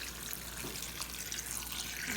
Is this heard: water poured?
yes